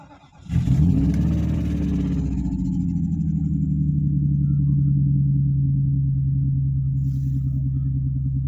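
A snow-covered Mercedes S500 W140 cranks and fires up after a short quiet moment, then settles into a steady, loud, deep idle rumble that holds to the end, with no talking.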